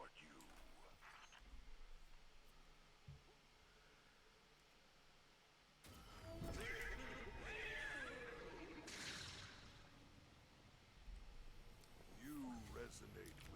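A horse neighs in the video game Destiny 2, a shrill whinny rising out of soft background hiss after a burst of noise, close and fairly loud, with a second fainter whinny near the end.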